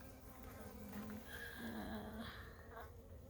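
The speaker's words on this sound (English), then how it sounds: "And there are the bees around the mite treatment" Honey bees crowd around a mite treatment inside an open hive, making a faint, continuous buzzing hum that rises and falls slightly throughout.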